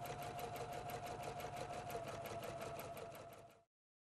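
A Husqvarna Viking Platinum Plus sewing machine stitches at a steady fast pace, its rapid even needle clatter close and continuous for several seconds before stopping abruptly.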